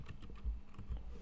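Quick keystrokes on a computer keyboard tap out a short line of code, a dozen or so soft, close clicks in an uneven rhythm over a brief moment, with no talk.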